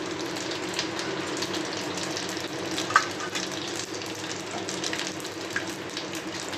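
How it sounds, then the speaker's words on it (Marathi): Steady frying hiss of mustard seeds in hot oil with scattered faint pops and crackles, one brief sharper snap standing out in the middle. "तर इकडे राई छान तडतडली आहे."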